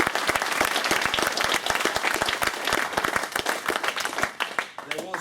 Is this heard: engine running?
no